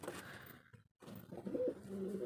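Pet pigeons coo softly in low, rolling bursts in the second half. The sound is quiet and close, over a faint hiss, after a brief moment of near silence.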